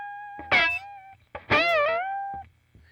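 Distorted electric guitar, with two bent notes that wail and slide upward, each ringing out briefly before cutting off, separated by short pauses.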